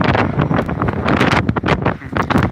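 Strong wind buffets a microphone outdoors in loud, continuous rumbling gusts with sharp bursts, covering everything else.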